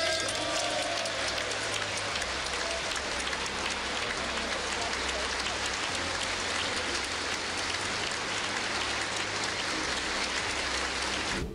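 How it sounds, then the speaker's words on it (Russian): A long, sustained ovation fills the chamber of the US Congress as lawmakers greet the Ukrainian president, dense steady clapping from a large crowd that holds at an even level throughout. "Конгрессмены приветствовали украинского лидера длительными овациями."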